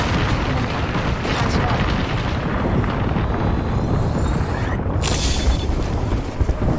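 A frag grenade blast in the Apex Legends battle royale, a loud, dense continuous roar of explosion and gunfire-like bursts that fills the whole stretch, with a sharp bright burst near the end.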